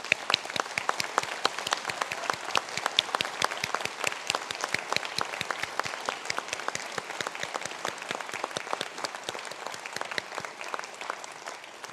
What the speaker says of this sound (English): I now ask you again to rise, these graduates, and please take applause.